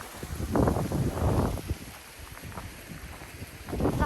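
Strong wind gusts buffet an outdoor microphone, rumbling in broad loud bursts that swell and ease over a few seconds, with no one talking.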